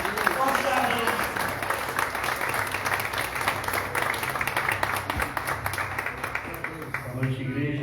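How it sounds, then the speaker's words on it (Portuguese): A church congregation applauds for several seconds, a full, sustained burst of many hands clapping that stays strong throughout and fades slightly at the very end. "E você aplauda o Senhor com uma salva de palmas de você."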